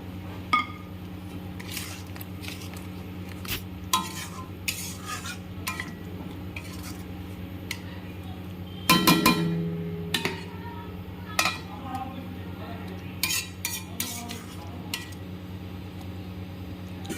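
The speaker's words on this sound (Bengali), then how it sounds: "জল দিয়ে মশলাটাকে ভালো করে কষিয়ে নেবো" Spice paste being stirred and fried with a splash of water in a pan for a homestyle doi katla, with repeated utensil scrapes and clinks against the pan over a steady low cooking hum and one louder clatter.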